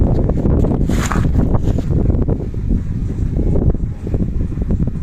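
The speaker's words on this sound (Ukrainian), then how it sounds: "Пориви вітру сьогодні." Gusty wind buffets a microphone outdoors at a building site where blocks are being laid, a steady loud rumbling roar with surging gusts.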